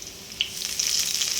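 Garlic frying in oil for sardine thokku, a close, soft hissing sizzle with small crackling pops that builds slightly, with no talk.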